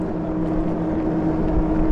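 A HOVSCO HovGtrs 1500W moped-style ebike motor runs under light throttle with a steady, loud electric hum and some wind rush, continuous and unbroken throughout.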